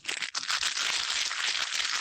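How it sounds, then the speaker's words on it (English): A Walkers crisps packet crumpled right next to a microphone gives loud, continuous crinkling and crackling with dense plastic rustles, a brief dip near the start and steady handling for two seconds. "who's crumpling crisps next to their mic?"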